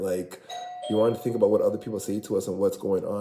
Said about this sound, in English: See, that's my doorbell.